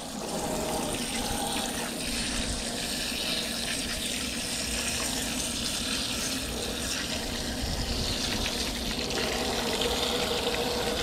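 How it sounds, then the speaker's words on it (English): Water runs steadily from a tap, a constant close rushing splash that continues without pause. "Turn your water on."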